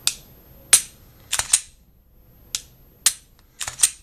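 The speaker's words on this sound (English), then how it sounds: "Hold the trigger all the way back to the rear like I'm practicing trigger reset." Sharp metallic clicks from a Glock pistol during dry-fire trigger reset practice, about eight crisp snaps spaced irregularly, some in quick pairs, close and clear over near silence.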